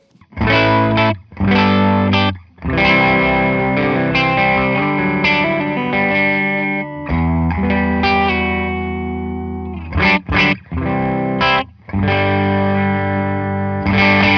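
An electric guitar plays chords and short riffs through a warm, lightly overdriven Victory Deputy amp on the edge of breakup, with stops and gaps between phrases and some sustained ringing notes.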